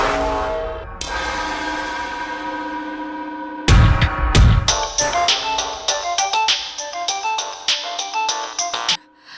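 A phone rings in a Tamil TV serial episode, playing a loud melodic ringtone of bright, repeating electronic tones that runs for several seconds before cutting off, with no talking.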